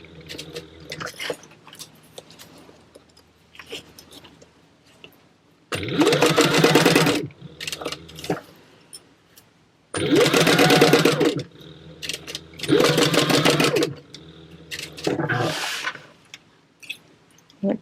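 A sewing machine stitches a zipper onto a wallet in loud, rapid bursts of a few seconds each, separated by quiet pauses with soft handling sounds.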